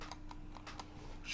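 Several quick keystrokes tap on a computer keyboard, faint and close, in a short irregular burst while coding with no voice.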